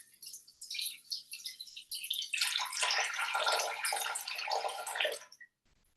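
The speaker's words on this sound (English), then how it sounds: "I'm just going to go over to my scales and just weigh the water into that" Water poured into a bowl sitting on kitchen scales: a close, steady splashing stream that thickens partway through and runs for about five seconds before stopping abruptly, no talking.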